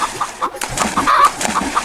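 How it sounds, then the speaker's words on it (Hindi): A cartoon chicken being dunked in a pond, clucking in quick, rhythmic bursts with a few sharper squawks, close and fairly loud. "इतना बोलकर लल्लू मुर्गी को तालाब में डुबकी लगवाने लगता है।"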